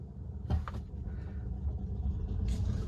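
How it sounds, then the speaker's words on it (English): A noisy car passes outside near a Tesla Model Y, a low rumble rising and fading over a few seconds with brief clunks, no talk. "That car was noisy."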